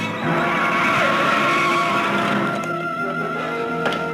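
A car skids to a stop, a loud, sustained tire squeal and engine noise lasting a few seconds before a brief sharper screech near the end, with no voices.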